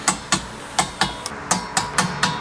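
A torque wrench tightens running board bolts on a truck, producing a steady series of sharp, close ratchet clicks, about four per second, with no talking.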